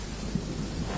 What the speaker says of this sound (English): Ah, it's raining.